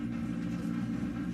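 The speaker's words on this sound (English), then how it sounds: "We have to stop this train." A moving train in the video game Red Dead Redemption 2, a steady low rumbling roar of wheels and rails that stays loud and even throughout, with no talk.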